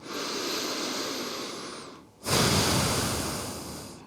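Slow, steady breaths during Samavritti yoga breathwork, heard close and breathy: one long airy inhale, a brief pause, then an equally long, louder exhale.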